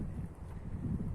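Strong wind gusting near a village and district centre during nearby forest fires, a steady low roaring rumble buffeting the microphone throughout, moderately loud with no voices.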